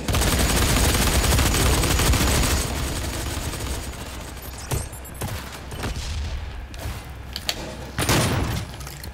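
Shotgun blasts and combat in the Doom 4 Warpath multiplayer beta on PS4, a dense, loud barrage of game gunfire with sharp booming shots standing out, especially near the end.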